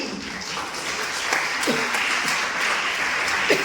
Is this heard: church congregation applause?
yes